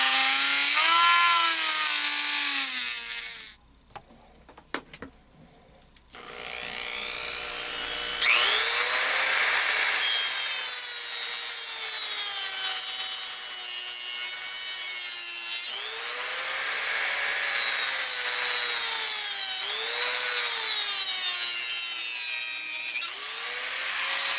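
A pipe is sawn in half to build a hare trap: a loud, continuous high-pitched whine of a power tool cutting, with a short quiet pause early on, then steady cutting to the end.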